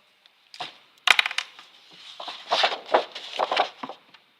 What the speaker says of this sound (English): Let's use these scissors.